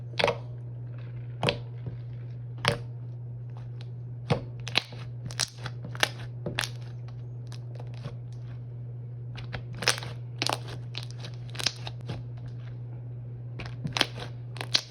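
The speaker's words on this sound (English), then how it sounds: "this is probably like the thickest slime I've ever played with" Thick slime being squished and popped by hand, giving repeated sharp crackles and snaps in an irregular rhythm over a steady low hum, close and fairly quiet, with no talking.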